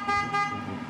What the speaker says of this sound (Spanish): Usted tocó tres bocinas